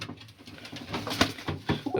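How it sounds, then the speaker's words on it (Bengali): A mother pigeon guarding her chicks in a nest box coos and grumbles close by, repeated low throaty calls with a few sharper bursts, no talking. "একটা মা পায়রা রাগ দেখাচ্ছি"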